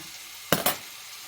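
Fish grilling over an open fire gives two short, close sizzling bursts in quick succession against a quiet background.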